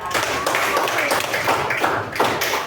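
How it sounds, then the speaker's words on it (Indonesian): A classroom of students claps briefly for the class at a teacher's prompt during a computational-thinking lesson, a short burst of loud, close, ragged clapping mixed with children's voices and chatter. "tepuk tangan buat kita"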